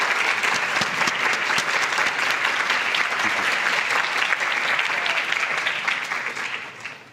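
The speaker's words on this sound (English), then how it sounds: "Can we all give one more round of applause for all of our PTO President's Council?" Board of education meeting audience gives a round of applause for a PTO President's Council, a thick, sustained crowd clapping filling the room for about seven seconds and tapering at the end.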